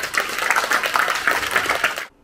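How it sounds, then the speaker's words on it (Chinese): Audience applause at a Lions Club annual scholarship ceremony in Hualien, a dense burst of many hands clapping that fills the room for about two seconds before cutting off abruptly. "大家给这个第四支会掌声一下。"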